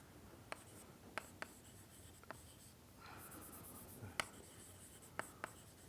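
Chalk or marker writing on a board in a doctoral numerical-methods lecture, quiet tapping and scratchy strokes in short bursts with a longer scrawl midway, faint against room hiss, no talking heard.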